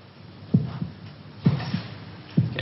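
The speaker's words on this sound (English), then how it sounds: "Can you hear your heart beating?" A heart beats in slow, regular double thumps, three beats spaced about a second apart, close and muffled over a low hum.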